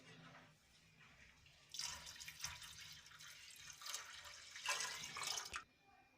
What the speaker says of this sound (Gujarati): એમાં આપણે જોઈતા પ્રમાણમાં ગરમ પાણી ઉમેરીશું